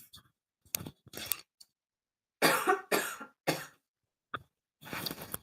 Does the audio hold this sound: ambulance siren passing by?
no